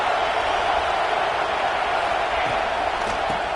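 Stadium crowd noise from the football video game College Football 26 forms a faint, even roar of distant cheering that holds steady without breaks.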